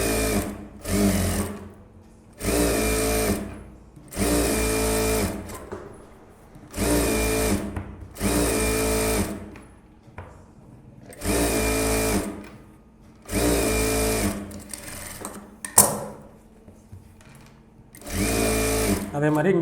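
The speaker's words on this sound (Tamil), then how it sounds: "இப்போ வந்து சுற்றி நம்ம 4 இன்ச்சு விட்டு தையல் போடுவோம் இல்லையா லைனிங்கில்" A sewing machine stitches the lining of a blouse in about eight steady bursts of several seconds each, separated by short pauses, with fabric handling and a person talking quietly between runs.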